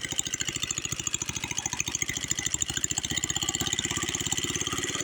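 A Jari sickle-bar mower's small engine idles up close, a loud rapid, steady chugging pulse that holds an even rhythm throughout, with no voices over it.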